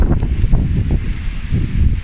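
Wind gusting outdoors, a rough low buffeting rush that rises and falls in uneven surges across a couple of seconds, close and fairly loud against the microphone.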